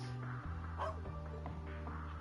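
A guard dog in the video game Trails into Reverie gives short, soft yipping barks and whimpers over steady game background music.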